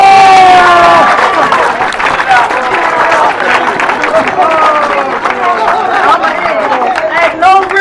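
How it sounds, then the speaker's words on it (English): A crowd at an outdoor protest rally claps and cheers, scattered hand claps mixed with shouting voices and loud chatter close by. "Can I get a hand clap?"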